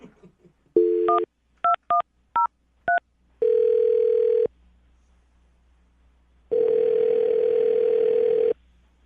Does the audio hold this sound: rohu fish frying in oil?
no